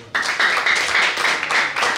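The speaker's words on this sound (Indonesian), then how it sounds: "Berikan sorak-sorai." A church congregation cheers and applauds during a sermon, a dense, continuous wash of clapping and shouting that starts abruptly and stays loud throughout.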